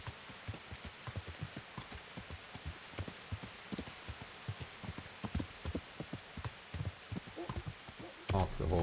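Horse hooves clop in a steady rhythmic gait in Kingdom Come: Deliverance, close and distinct under a rain-like ambient wash, with a voice speaking briefly at the end.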